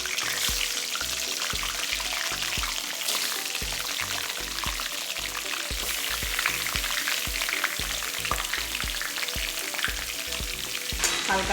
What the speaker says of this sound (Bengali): চিকেনটা আমরা ভেজে নিচ্ছি।